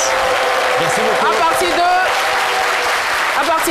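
Studio audience applauding on a French television talk show: dense, even clapping that runs loud and unbroken throughout, with a voice talking over it.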